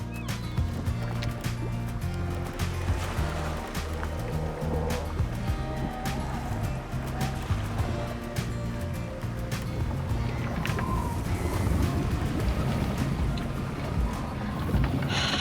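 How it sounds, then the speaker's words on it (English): Steady roaring gale-force wind in Cape Town with broadband rushing noise and low rumbling, close and loud throughout, mixed with water slapping and creaking. "it's blowing a gale outside."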